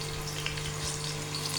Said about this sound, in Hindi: मुझे देखिए हमारे प्याज फ्राई होना शुरू हो गए।